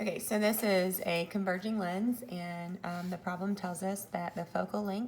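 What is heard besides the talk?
No everyday noises stand out.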